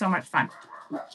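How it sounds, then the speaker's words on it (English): Dogs bark briefly indoors, several short yaps mixed under and between a person's speech, fairly close and moderately loud. "sorry about the dogs."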